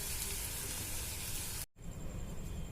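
Leaves frying in a pan make a loud, steady sizzle and hiss that cuts out briefly and then resumes, with no talking.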